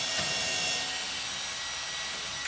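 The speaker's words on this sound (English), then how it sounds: "we pre-drill a small hole in the spot where the floor is squeaking" A power drill whines steadily while boring a small pilot hole into a squeaky hardwood floor, a close, continuous broadband buzz with a couple of brief bumps near the end.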